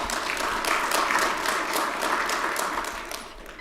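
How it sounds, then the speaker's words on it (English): Audience at a Durham County board of commissioners meeting applauds in a dense, steady burst of many hands clapping that carries on throughout and thins slightly at the close. "That also deserves a big round of applause."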